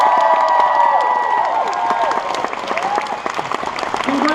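An audience at an evening community show claps and cheers steadily, a dense wash of applause with shouts rising over it, loud and sustained before fading slightly.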